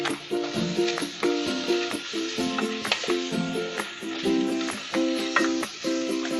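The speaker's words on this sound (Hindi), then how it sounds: "अब इसमें हम कोरिएंडर लीव्स डालेंगे, इसको भी मिक्स कर लेंगे" Coriander leaves are stirred into potato chips curry in a pan, giving a steady sizzle with repeated scraping strokes over a recurring tonal pattern in the background.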